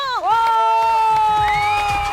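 Studio audience on a Punjabi game show cheers for a stage guest, a sustained crowd roar with whoops running under musical tones for the full stretch.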